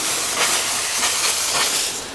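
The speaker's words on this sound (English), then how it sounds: "So I got some compressed air, and I'm gonna be cleaning this guy's keyboard." A can of compressed air blasts dust out of a desktop PC with a loud, steady, close-up hiss, pulsing slightly with short bursts across two seconds.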